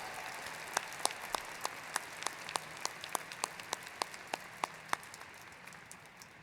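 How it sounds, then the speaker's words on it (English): Applause at a college commencement ceremony sounds thin and sparse, mostly a soft wash with distinct individual claps in a loose, irregular rhythm that slowly fades out. "Let's give Tony a round of applause for a college career well done and a limitless future."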